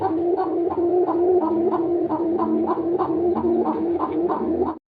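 Pigeons at a farm in Gazipur coo in a steady, repeating rolling rhythm, close and continuous, with several birds overlapping.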